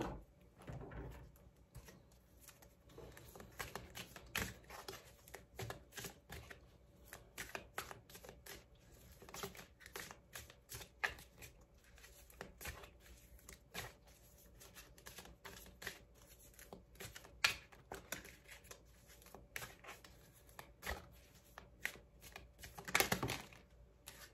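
Tarot cards shuffled by hand before a love reading, a steady run of papery riffles and soft taps with occasional sharper snaps, fairly faint and close, with no talking.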